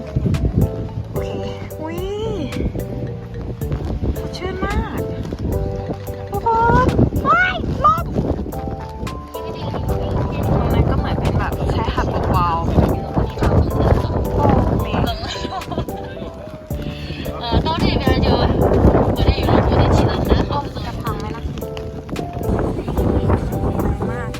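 Strong gusting wind buffets the microphone at a seaside lookout in Qinhuangdao, China, on a rainy day, a loud, continuous low roar that swells and eases under excited talking.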